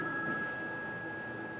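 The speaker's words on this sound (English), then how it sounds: "Oh, we put the phone here. Thank you, Jim. Hello" Telephone ringing on stage during an amateur drama club play, a faint, steady electronic ring tone sustained briefly in a room.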